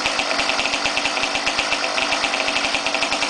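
A small engine on a custom three-speed motorized bicycle runs just after a kickstart, with a rapid, even putter of pulses over a rough buzzing drone, close and loud, with no talking.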